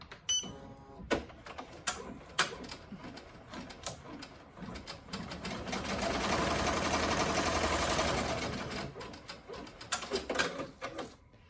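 A Ricoma embroidery machine stitches the placement outline for a heart on a coaster in the hoop, its steady rapid needle chatter building in the middle and settling, with a few clicks at the start and end.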